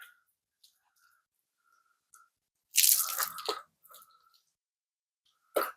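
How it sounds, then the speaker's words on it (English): Plain distilled white vinegar poured onto a homemade griddle: one short splashy pour lasting about a second, with faint scattered drips before and a brief splash at the end, no talking. "I'm just going to pour some on here"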